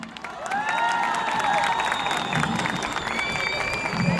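Loud, sustained applause from a large crowd at a university graduation ceremony, with some cheering and children's shouts mixed in.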